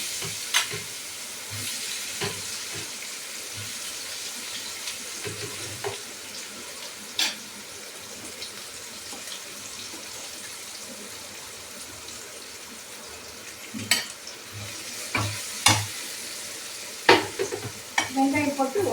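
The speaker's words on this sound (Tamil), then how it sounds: "இப்போ முதல்ல வெங்காயத்தை போடுறேன்" Onions tipped into hot oil with fennel seeds, a soft continuous fry broken by sharp clinks and scrapes of a spoon against the pan, busier toward the end.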